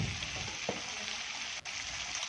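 Fish curry with jahabhul being stirred in a pan, a steady sizzling hiss throughout with a couple of soft scraping knocks, close and moderately loud, no voices.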